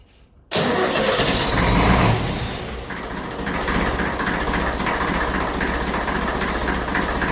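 A 1954 Ferguson TEF 20 diesel tractor engine cranks briefly and catches, then settles into a loud, steady, close diesel idle with a rhythmic chugging knock.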